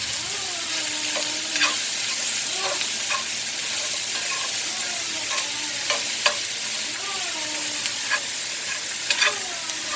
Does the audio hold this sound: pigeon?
no